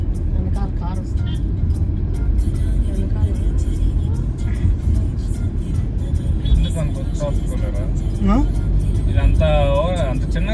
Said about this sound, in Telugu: వెనకాల కారు వస్తుంది.